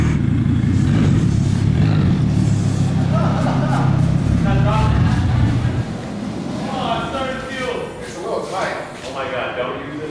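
Engine of a Volvo caster car build running steadily close by in a small space after the gas tank is hooked up, a loud low rumble for about six seconds that then drops to a quieter idle, with people talking over it.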